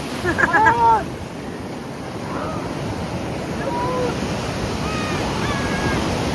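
Sea waves at Puri beach roll in as a constant broad wash of surf with wind buffeting, while children's shouts and voices rise briefly at the start and faintly later.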